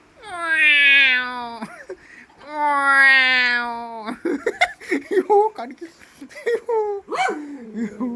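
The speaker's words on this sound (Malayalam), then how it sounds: "പൂച്ച അവിടെ കിടന്ന് കളിക്കുന്നു" A cat gives two long, loud drawn-out meows close by, followed by a stretch of people talking and a shorter cry near the end.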